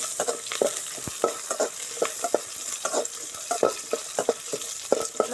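Dried red chillies, chana dal and small shallots sauté in hot oil with a close, steady sizzle, punctuated by rhythmic scraping and clinking of a spoon stirring against the pan; no talking.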